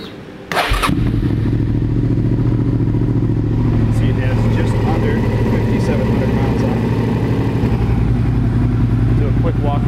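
A 2007 Suzuki SV650S V-twin with a Yoshimura exhaust runs steadily after starting, its loud, even burbling idle close up, with a voice briefly heard over it.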